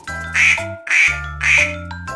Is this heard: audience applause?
no